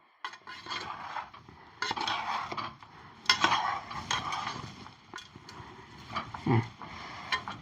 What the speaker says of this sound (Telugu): చూడు ఇగో ఇట్లా కలపాలి.